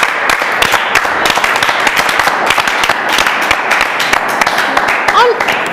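An audience at a live show gives sustained, dense applause with sharp claps throughout, fairly loud and close, with a few voices faintly mixed in.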